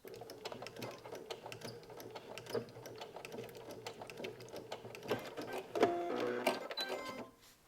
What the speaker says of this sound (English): And then we're going to backstitch.